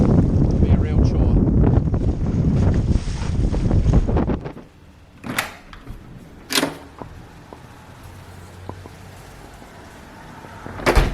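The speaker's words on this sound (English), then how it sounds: "Thank goodness for this little outboard though." A small outboard motor on a cruising boat off Curacao drones loud and close for about four seconds under heavy wind buffeting, then cuts out, leaving faint wind and water with a few sharp knocks.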